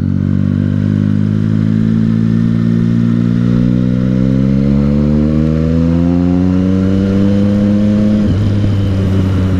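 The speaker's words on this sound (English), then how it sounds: "I pulled out of a 4th gear and so slowly on that particular corner. But the bike pulled pretty okay." A Triumph Street Triple 675 motorcycle accelerates out of a corner, its engine note climbing steadily and loudly before a gear change near the end, with no talking.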